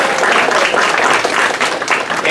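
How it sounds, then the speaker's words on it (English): Sustained round of applause from an audience at a luncheon, dense steady clapping filling the room throughout. "Give her a round of applause"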